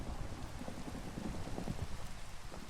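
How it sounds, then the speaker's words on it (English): Steady heavy rain from a thunderstorm in Minecraft, a dense continuous hiss and patter filling the whole stretch, with no voices. "Oh, this is a thunderstorm."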